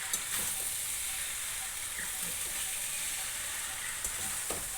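Butter melting as it is stirred into hot pasta in a pan gives a soft, steady sizzle with faint stirring scrapes, fairly quiet and continuous with no talk.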